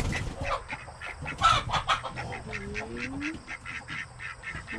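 Chickens in a coop during work on a post and beam firewood shed, giving short clucks and squawks throughout, moderately close, with a person's voice briefly mixed in.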